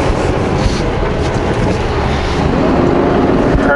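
A big rig truck with an automatic transmission, hauling new trailers on Washington runs, revs high after missing a gear; a steady, loud, broadband engine roar fills the cab without pause.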